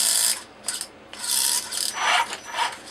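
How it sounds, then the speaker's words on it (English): A stripped-gear micro servo on a custom rat rod's steering grinds and ratchets in several harsh bursts, loud and close, with brief gaps between them and no talking. "I apparently have already stripped out gears on the servo"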